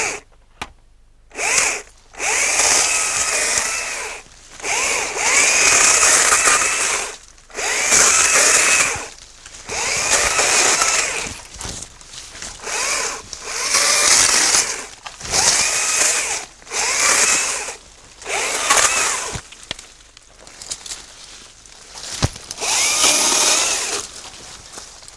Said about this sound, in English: All I'm going to do is basically just swing the chainsaw up and down and create a little corridor